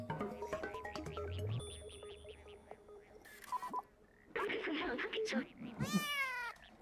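A cat meows several times in the video game Stray, rising and falling cries that end in a drawn-out wail, mixed with game sound effects and a person talking.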